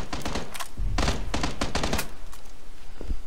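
Gunfire in the Xbox One battle royale game PUBG, with several close, sharp shots in irregular bursts that punch out over a steady background din.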